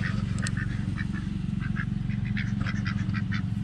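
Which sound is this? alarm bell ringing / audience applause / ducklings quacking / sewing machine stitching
ducklings quacking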